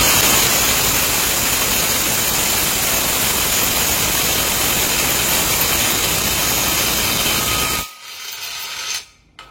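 A loud, continuous mechanical whir of an impact wrench loosening a tight nut runs steadily for several seconds, then cuts off abruptly, leaving a brief rattle and near silence.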